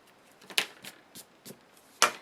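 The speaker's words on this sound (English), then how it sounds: "I'm just going to go ahead and erase my pencil lines." A rubber eraser rubbing out pencil lines on card paper, giving short, soft scratchy strokes in an irregular rhythm, close and quiet, with two sharper swipes standing out.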